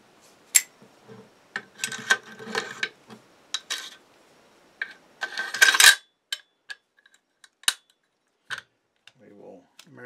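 An AR-15 receiver gets a BCM charging handle and a Spikes Tactical bolt carrier group inserted, giving sharp metallic clicks and sliding scrapes in scattered bursts, close and fairly quiet, with a few soft words between them.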